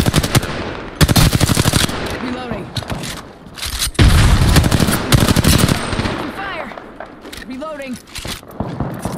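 Rapid automatic gunfire from the Apex Legends battle royale game rattles in loud bursts with heavy impacts, while a player talks excitedly over the shooting.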